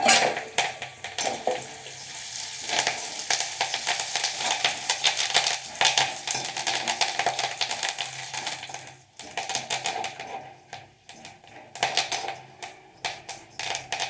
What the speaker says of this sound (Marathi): कढीपत्ता टाकून चांगलं परतून घेते